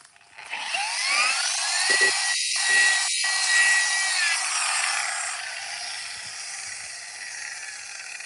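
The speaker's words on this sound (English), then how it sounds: "Polished it out now, that's fine." Hand polishing scratched paint on a VW Beetle, a steady close rubbing hiss that runs for several seconds and slowly fades, with no talk.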